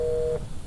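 A telephone receiver taken off the hook in the video game They Are Here gives a short, steady electronic tone that cuts off after about a third of a second, leaving faint room noise.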